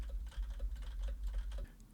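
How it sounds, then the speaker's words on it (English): Quiet, rapid clicking of keys on a desk computer keyboard, a steady patter of light taps that stops abruptly near the end, with no voices. "I'm typing my keyboard in the background"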